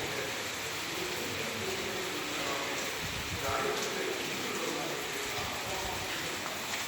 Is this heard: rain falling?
yes